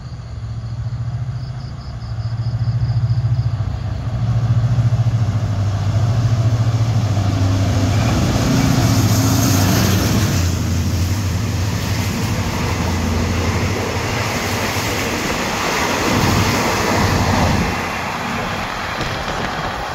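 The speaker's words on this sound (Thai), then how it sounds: "เสียงเร่งเครื่องสุดยอดครับ" Hitachi diesel locomotive 4505 hauling express train 133 rumbles through Ban Haet station, its engine droning loud and low as it revs hard, with a steady rolling roar from the passing train.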